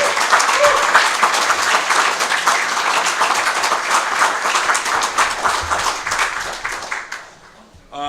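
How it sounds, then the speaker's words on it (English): Steady, dense applause from a convention audience at an Indiana Libertarian gubernatorial debate fills the room for about seven seconds, then quickly dies away. "Please give a round of applause for our candidates today"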